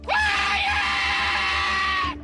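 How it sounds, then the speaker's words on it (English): A person lets out a single, extremely loud human shout, one sustained, piercing scream lasting about two seconds, close and alone. "has already shouted at a staggering 115 decibels"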